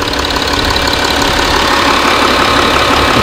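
A 2012 Audi Q7 engine running steadily at idle, a loud continuous mechanical hum with no voices over it.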